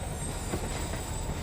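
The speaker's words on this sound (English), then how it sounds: "Get on the train." A subway train runs with a steady, continuous rumble and rattle, close and enveloping, with no pauses over the short stretch.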